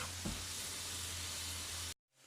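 Ground meat browns in a pan for homemade spaghetti sauce, giving a close, steady, dense sizzle that cuts off abruptly near the end.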